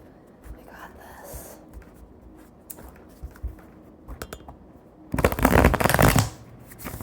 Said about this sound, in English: we're shuffling again, friends